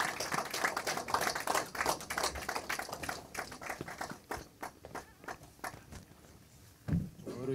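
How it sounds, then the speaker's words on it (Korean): Scattered, uneven clapping from a small audience at a book launch event for a political party leader, quiet and sparse taps continuing over several seconds with faint voices around. "우리 성호 스님 박수로 좀 맞이해 한번 해주십시오."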